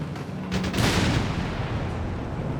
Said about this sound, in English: Got another whiz-bang out there from Tonimontana.